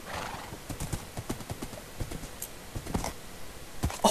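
Horse hooves clip-clop in quick, uneven rhythm in a video game, with faint whinny-like cries mixed in.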